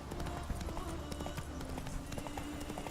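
Hooves of the horse Roach clip-clop at a steady walking rhythm in The Witcher 3, close and moderately loud over a dense ambient game background.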